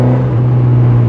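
A Honda CB1000R four-cylinder motorcycle engine cruises through town in fourth gear, giving a steady, smooth drone that holds close and loud for about a second, with a slight pitch rise near the end.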